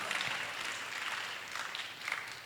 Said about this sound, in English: A little applause for cohort 2,